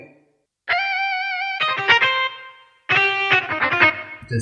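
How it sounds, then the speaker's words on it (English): A Casio CT-S300 portable keyboard plays its distortion guitar voice: a sustained buzzy chord, then a run of quick stabbed notes, a pause, and another held chord with choppy notes, loud and close with no talking. "Distortion guitar."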